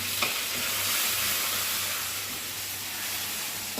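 Cumin seeds and dried red chilies sizzle in hot oil in a pan, a steady close crackling hiss with faint stirring scrapes and a low hum underneath, no voices.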